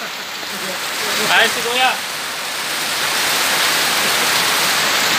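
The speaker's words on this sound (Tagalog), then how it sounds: "biglang umuulan ng malakas" Heavy rain pours down in a steady, dense hiss, with someone briefly speaking over it near the start.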